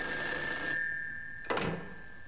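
An old-style telephone bell rings steadily with a sustained metallic tone, breaks briefly, then gives a short second burst, in a reconstructed 1941 phone call between the German Foreign Office and the Soviet embassy in Berlin.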